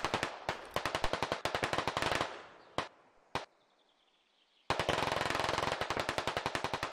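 Gunfire in a squad shooter game: rapid automatic bursts crackle in long volleys, break for a few isolated shots and a quiet gap, then resume as a dense sustained burst.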